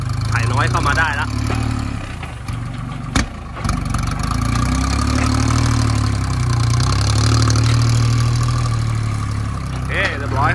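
A small walking tractor engine runs in a rice field with a steady, low, close idling chug that stays loud throughout, with a brief knock partway through and short voices heard faintly at the edges.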